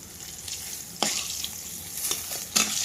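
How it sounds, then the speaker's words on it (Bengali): Eggplant slices fry in oil in a pan, a continuous close crackling sizzle with a few sharper spatters and stirring scrapes breaking through. "প্রথম খোলার বেগুন ভাজা কিন্তু বন্ধুরা হয়ে গেছে"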